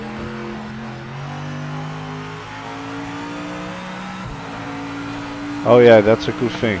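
A Mercedes race car engine in the Project Motor Racing video game holds a steady, droning tone that shifts pitch in gradual steps. A voice cuts in briefly near the end.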